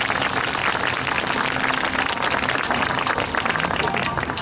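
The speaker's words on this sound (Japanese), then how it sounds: "では今一度トップアクシー様に盛大な拍手をお願いいたします。" A crowd at the Matsushiro Sanada Jumangoku festival in Japan applauds enthusiastically, a dense, loud and steady roar of clapping that fills the whole stretch, with some voices mixed in.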